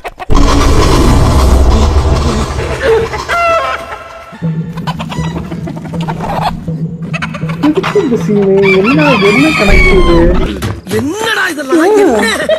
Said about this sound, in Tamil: வீட்டுக்குள்ள ஒரு சேவல் நிக்குது.